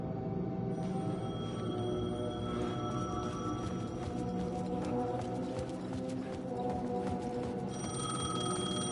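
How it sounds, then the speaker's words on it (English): A payphone rings repeatedly in the video game Alan Wake 2, its steady electronic bell tones sounding at a moderate distance over a low ambient backdrop, with no speech. "The payphone was ringing."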